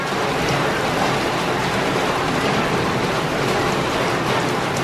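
Light rain runs off a house terrace and drips into metal vessels, forming a dense, steady patter and splash that stays close and even throughout, with no voices.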